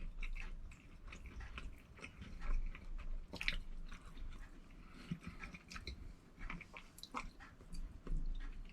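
Close chewing and crunching of homemade chicken samosas with a mild chili kick and cumin and fennel seeds, a steady run of bites and mastication with no talk.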